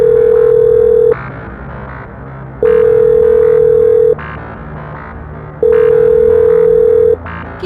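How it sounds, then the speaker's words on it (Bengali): A telephone rings out unanswered: three long, loud ringback tones about a second and a half each, separated by quieter pauses, with no voice on the line. "কিন্তু ফোনটা বেজে গেলেও কেউ ধরল না।"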